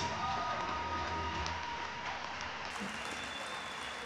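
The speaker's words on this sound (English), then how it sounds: "let's give these ladies one great big huge round of applause" Audience applause at a cage fighting event, a steady wash of many hands clapping at a distance, continuous and fairly faint, with some crowd noise mixed in and no break.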